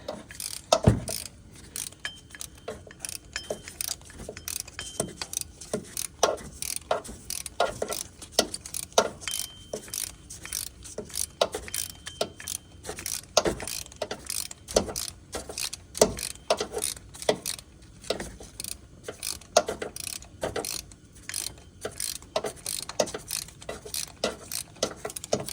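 A ratchet on a long extension loosens an upper bolt, giving close, rapid metallic clicking in irregular bursts that continue steadily throughout.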